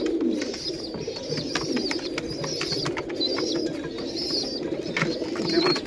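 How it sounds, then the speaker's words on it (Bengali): Pigeons in a loft cooing steadily and close, low throaty calls overlapping with light rustling and faint higher chirps throughout. "দেখুন স্ট্যান্ডিং দেখুন পায়রা।"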